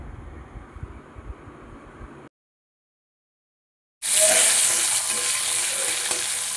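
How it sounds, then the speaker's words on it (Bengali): Radish and sweet potato fry together in oil in a kadai, a loud steady sizzle that rises abruptly after a short silence, preceded by low stirring and handling noises. "এবারে মূলো আর রাঙা আলু দুটো একসঙ্গে ভালোভাবে ভেজে নেব।"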